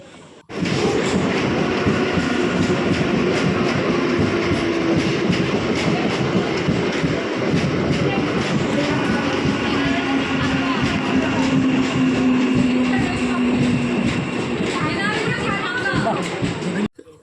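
Crowded passenger train running on rails makes a loud, continuous rumble and rattle with rhythmic clatter and a faint whine, with voices mixed under the din throughout.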